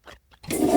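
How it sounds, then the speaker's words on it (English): A bathroom toilet flushes with a sudden loud rush of water that swells and keeps roaring, coming right after a couple of brief, faint scrapes. "somebody decided to come down to my bathroom and flush the toilet"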